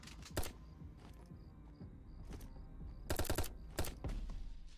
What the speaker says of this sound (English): No, that was a breaching charge.